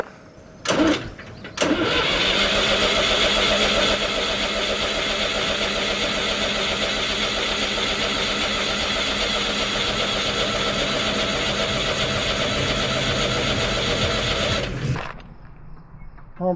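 A skid steer engine cranks in short bursts, then catches and runs steadily at a loud, close idle for about thirteen seconds before shutting off abruptly, with no talking.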